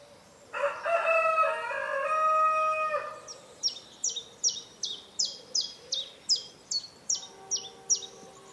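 A rooster crows once in a long drawn-out call on a farm where hens are kept, followed by a quick run of about a dozen short, evenly spaced clucks or chirps, moderately close with quiet surroundings.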